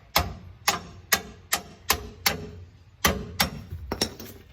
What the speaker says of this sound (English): You can use your hammer and just tap it out.